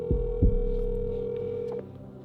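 An outgoing phone call rings out as a steady electronic tone, with two brief knocks near the start, then stops abruptly just before the end.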